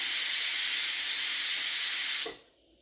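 A loud, steady hiss of steam venting from a pressure cooker of mutton leg soup for about two seconds, then cutting off abruptly into near silence.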